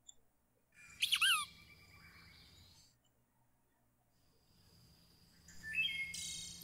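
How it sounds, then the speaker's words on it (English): Birds chirping and singing in a relaxing video game set at noon, two clear bursts of bright trilling calls separated by quiet, with faint insect-like hiss beneath. "The birds are singing."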